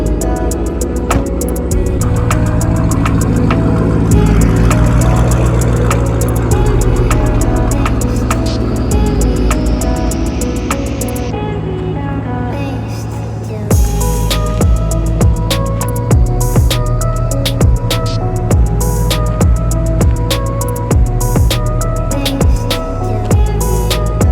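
A straight-piped 2007 Mustang GT California Special with a 3-valve V8 drones loudly and steadily, briefly dipping before resuming with a raspy, crackling exhaust note as the car is driven.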